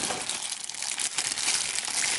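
Small plastic bag holding a drone frame being handled and opened, steady crinkling and rustling close up throughout, with no talking.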